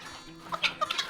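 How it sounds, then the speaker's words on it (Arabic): Free-range local-breed hens kept for eggs cluck in a few short, fairly quiet bursts close by, with no talking. "دي فراخ انا مربيها للبيض"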